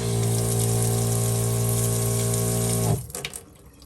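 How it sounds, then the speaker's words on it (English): An on-demand water pump in a camper van hums loudly with a steady tonal drone as the tap runs, then cuts off abruptly, leaving softer splashing of water in the sink. "Running water, of course."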